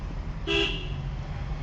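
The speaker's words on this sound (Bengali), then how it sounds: "একটা হর্ন দে" A car horn gives one short, clear honk during a driving lesson on Sylhet roads, over low steady engine and traffic rumble.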